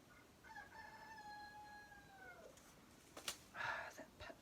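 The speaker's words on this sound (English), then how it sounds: "That rooster." A rooster crows once nearby in a garden during a pepper seed harvest, a long drawn-out call with a falling end, followed by rustling and handling noises.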